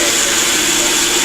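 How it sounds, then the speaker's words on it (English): A blender grinds a cup of brown rice into powder, a loud, steady, high-pitched whir that runs unbroken and close, with no voices. "We're going to put it in the blender."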